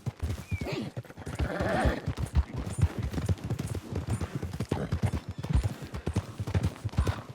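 Steady clip-clopping hooves of a horse walking nearby in the video game Red Dead Redemption 2, a continuous rhythmic patter with a brief whinny-like tone early on.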